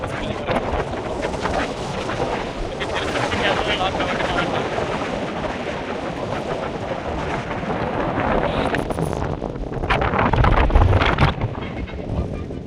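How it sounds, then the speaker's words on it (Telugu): Strong wind gusts buffeting the microphone at a lakeside near boats in Bukkarayasamudram, Anantapur, a steady roaring rush with a louder surge near the end. "ఎంత హెవీగా వస్తుంది చూడు గాలి అనేది"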